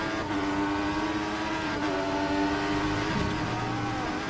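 A McLaren Formula 1 car in a racing video game drones at high revs with a steady, dense engine tone, pitch shifting slightly as it pushes to overtake a Lotus on a Belgian circuit.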